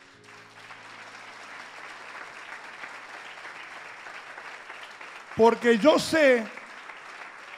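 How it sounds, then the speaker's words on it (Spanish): A church congregation breaks into a short burst of applause that swells loudly near the end, following a voice preaching in Spanish in a reverberant hall. "Un aplauso para ella."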